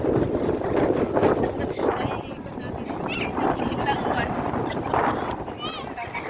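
Outdoor wind rushing and buffeting against a microphone, steady and fairly loud, with voices talking underneath.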